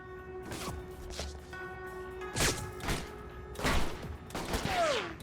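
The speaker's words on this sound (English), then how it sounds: "Shooting at me." Shots ring out in the video game Alpha Protocol, several loud, close gunshot bursts in irregular succession with thudding impacts, including a sniper firing at the player, with no speech.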